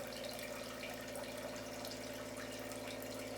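An RB 15 sap concentrator system runs steadily, giving a continuous, even rush of flowing water with a pump hum underneath, with no voices.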